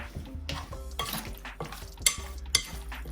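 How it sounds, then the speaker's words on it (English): Meat being mixed with spices for karahi gosht, a run of close scraping and clinking of a utensil against a metal pot, with two sharp metallic knocks toward the end. "I'm going to mix this in"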